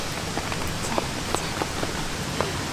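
Rain falling on a tent at a rainy camp in the mountains, a steady soft patter with scattered louder drips striking the fabric close by, heard alone.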